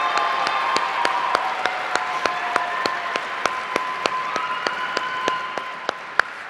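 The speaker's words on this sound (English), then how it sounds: "We now have another round of applause for our Eastman Pathways Orchestra." An audience applauds a school orchestra at a citywide district concert, steady massed clapping filling the hall with a few sharper individual claps standing out.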